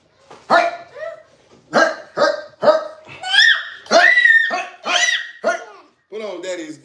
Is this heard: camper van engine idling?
no